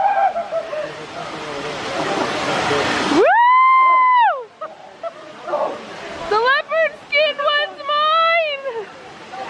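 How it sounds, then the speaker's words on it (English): A waterfall in Mexico roars with a broad, rushing wash of water for a few seconds, then cuts out as people going under it let out loud yells and whoops. "they're about to go under the waterfall"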